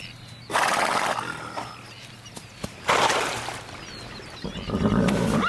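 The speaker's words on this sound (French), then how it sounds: "les amis les plus proches expriment leur affection en se mouchant mutuellement" Camargue horses snorting and blowing at each other outdoors, two loud close bursts of breathy nasal exhalation separated by quieter breathing and shuffling.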